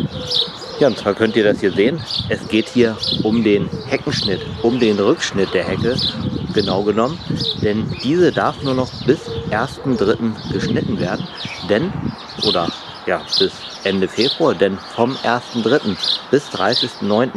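Small birds chirping and tweeting in a garden hedge at the end of winter, faint in the background beneath someone talking continuously in German.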